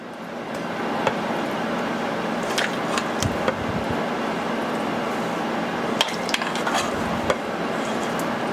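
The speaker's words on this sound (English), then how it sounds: "stir it up just a little bit because it sets up fairly fast" A spoon stirring a cooled no-churn strawberry Oreo ice cream mixture in a bowl, with soft continuous scraping and a few light clinks against the side, close-up over a steady background hiss.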